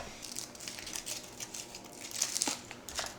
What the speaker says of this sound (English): we get to unwrap 48 peanut butter cups